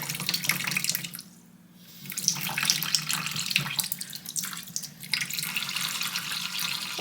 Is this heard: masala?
no